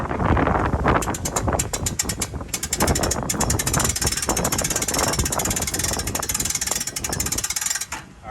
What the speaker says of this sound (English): we always kind of give it a few cranks and make sure nothing's catching it.